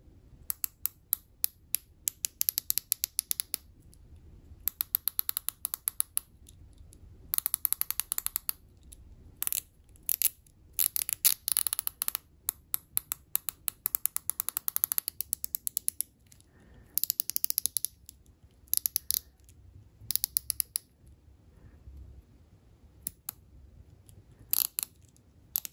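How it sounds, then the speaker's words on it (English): Wera Zyklop Mini 1 fine-tooth 60-tooth ratchet clicking in dense, rapid bursts of tiny sharp ticks, repeated in several runs separated by brief pauses, close up with no talking. "So it said it's a 60 tooth ratchet, and it's really fine tooth"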